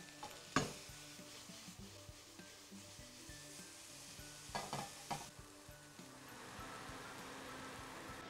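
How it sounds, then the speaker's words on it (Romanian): Bacon browns without added oil in a very hot pan, a quiet steady sizzle with a few sharp utensil knocks and scrapes, faint and close. "rumenesc pe o tigaie foarte bine încinsă"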